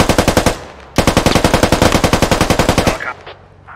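Sustained automatic machine gun fire in the video game Squad, loud and close, a rapid steady burst that breaks briefly then resumes for about two more seconds before cutting off.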